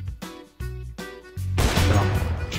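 Gunfire in the video game CS:GO on the Inferno map: three loud, sharp shots in quick succession, followed by a burst of noisy, crashing blast sound.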